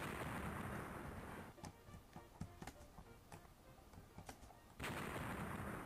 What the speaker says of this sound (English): I can drop bombs.